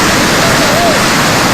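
Floodwater from rain and water released from Nepal rushes loudly around a reporter wading chest-deep, a dense, steady roar filling the whole moment.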